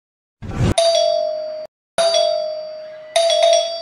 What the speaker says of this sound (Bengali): এত সকাল আবার কে কলিং বেল বাজাইলো?